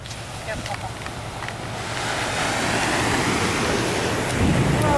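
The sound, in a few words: Pacific Ocean waves at Brookings, Oregon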